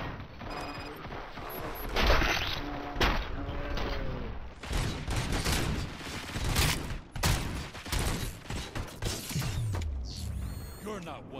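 A gunfire volley in RoboCop: Rogue City, with repeated bursts of shots, impacts and metallic crashes in irregular clusters over mechanical clatter and game effects.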